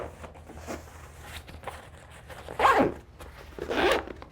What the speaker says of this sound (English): Full length zipper.